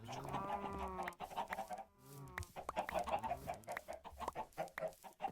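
Chickens in the video game Minecraft cluck repeatedly in short, busy bursts, a flock close by and fairly loud, with other faint game sounds mixed in.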